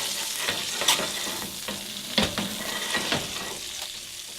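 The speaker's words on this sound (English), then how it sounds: "Oh, listen to that sizzle." Steady crackling sizzle of chicken searing in a hot grill pan, with occasional louder pops and scraping stirs, close and continuous.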